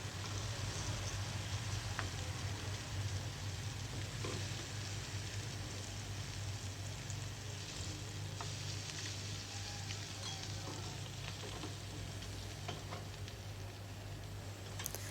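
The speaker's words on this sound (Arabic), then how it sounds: "في نفس الطاسة هنحط مكعب صغير من الزبدة، وهنقلب بقى كده معلقة توم صغيرة مفرومة" Butter and minced garlic sizzle steadily in a frying pan as they are stirred, the same pan just used to cook butter-marinated fish fillet; a continuous, close frying hiss with light scraping, and no talking.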